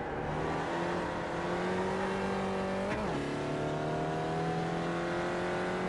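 A Spec Racer Ford race car's engine held on throttle in the iRacing sim at Okayama, droning steadily with a brief pitch dip midway before climbing again, no voices present.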